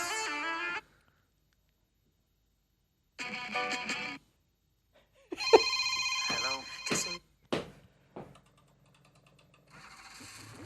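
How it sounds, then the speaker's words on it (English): A telephone ringing in separate bursts: short buzzing rings broken by silence, then a cluster of louder, more jangly rings, with no talking over them. "Go back to that phone ringing for a second."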